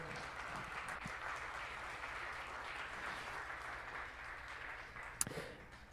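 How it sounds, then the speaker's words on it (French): Applause from an audience at a municipal council meeting, steady and fairly faint throughout as if heard from across a hall, with a sharp knock near the end. "On les applaudit très fort, s'il vous plaît"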